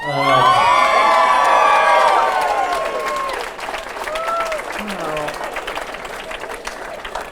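A live podcast audience cheers and whoops loudly, with high shouts and applause at first, then the noise fades to a lower, steady crowd murmur and scattered clapping.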